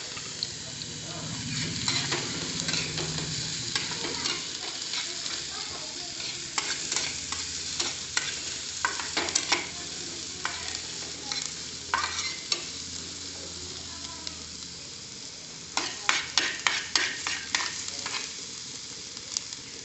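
Onions fry in a pan for Assamese-style palak paneer, giving a steady close sizzle with frequent clinking and scraping stirs, busier taps toward the end.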